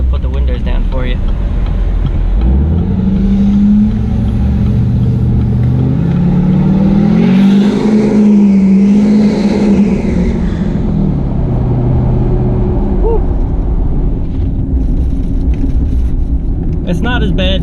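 A car with an axle-dump exhaust drives through a tunnel, its engine revving loud and droning as the pitch rises and falls, echoing inside, while someone talks over it.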